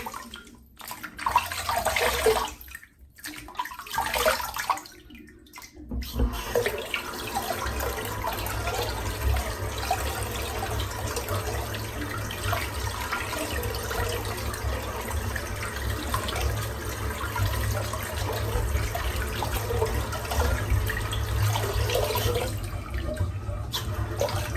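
A shaving brush is rinsed under running tap water, with a steady close splashing stream broken by a few brief gaps early on, then continuing evenly.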